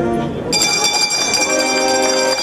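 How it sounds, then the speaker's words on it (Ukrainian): A ceremonial last school bell rings at a university, a steady bright metallic ringing that starts abruptly and sustains loudly throughout, with a faint murmur of people underneath. "пролунав останній дзвоник"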